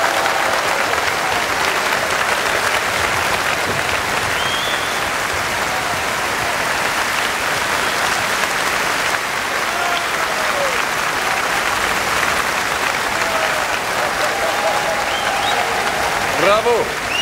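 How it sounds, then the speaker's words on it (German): Sustained audience applause at a Hänsel und Gretel show in the Efteling theme park, a dense, loud crowd clapping steadily throughout with occasional cheers mixed in. "einen enormen Applaus"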